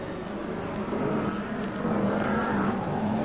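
BriSCA F1 stock cars race at Long Eaton in 1994 as racing resumes on the green flag, producing a sustained, somewhat distant roar of engines blended with broad crowd and track noise.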